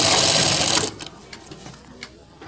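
A sewing machine runs a fast, loud stitching burst while sewing a collar for a neck design, then stops, leaving a few faint clicks and handling sounds.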